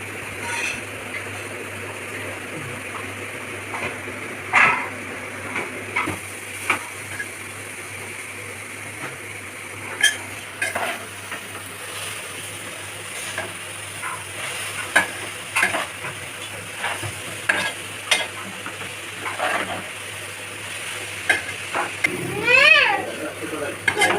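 Grated carrot frying in ghee for carrot halwa, a steady low sizzle with frequent spoon scrapes and stirring knocks while people talk over it throughout.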